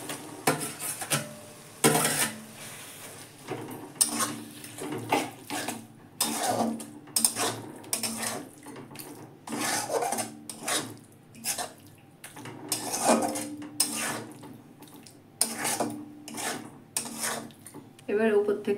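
Eggplant goes into a pan with oily, cooked-down yogurt and is stirred, producing repeated loud clanks and scrapes of a metal spoon against the pan in an uneven rhythm.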